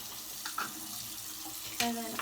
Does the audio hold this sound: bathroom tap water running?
yes